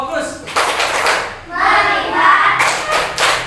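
An elementary school class does the tepuk fokus clapping chant, with several bursts of group clapping in a pattern and children's voices chanting between and over the claps.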